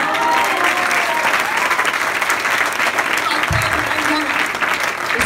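Loud, continuous applause from an assembled audience fills the space, a thick steady roar of clapping with faint voices mixed in.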